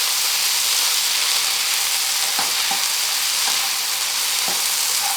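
Soaked cashews frying on a high flame as part of a tandoori butter chicken recipe, giving a loud, dense, continuous sizzle with a few light stirring knocks.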